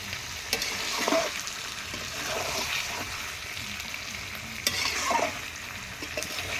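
Chicken pieces with liver being fried and stirred in a pan for coriander chicken curry, a steady sizzle broken by repeated wet scrapes and clatters of the spatula at close range.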